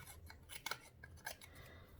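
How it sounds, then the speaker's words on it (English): Scissors cut quick slits every half inch around the edge of a paper piece for an upcycled jar, giving soft close snips and crisp rustling in a quick uneven rhythm, with no speech. "you cut a slit like this, just every ½ inch, all the way around the whole thing."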